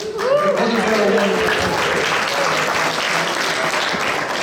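Audience applause fills a Republican Party meeting room at Heritage Ranch, a dense, steady clatter of many hands clapping close by for the whole span with a few voices mixed in.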